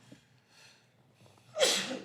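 One close sneeze, a sudden sharp burst of breath after a short intake.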